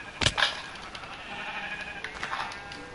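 Sheep in the Minecraft video game bleat twice close together near the start, then fainter bleats follow over a quiet background.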